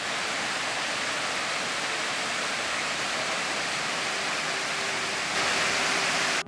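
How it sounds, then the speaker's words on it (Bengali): A waterfall in a rocky cave area on the way to Tiprakhum falls, heard as a loud, continuous broadband rush of falling water, steady and unbroken with no voices. "আর এখান থেকেই শুনতে পাচ্ছি ঝর্ণার শব্দ।"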